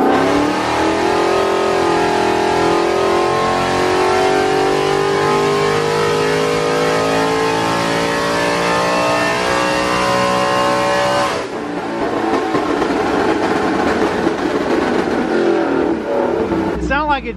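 A built 2019 Ford Mustang GT with a 5.2 engine and VMP Odin supercharger on a dyno, revving loud and close through a long rising pull, then dropping off, with voices underneath.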